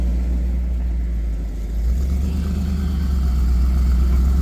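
A vehicle's engine idles low and steady, then revs slightly as it reverses its tyre up onto a rock, a close, continuous rumble with no talk.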